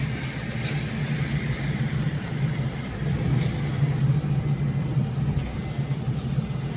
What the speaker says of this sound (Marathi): बऱ्याच गाड्या आम्हाला ओव्हरटेक करून जात आहेत